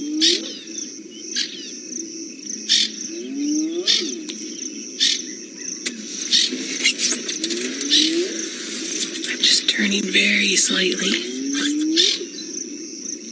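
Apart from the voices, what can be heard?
francolin alarm calls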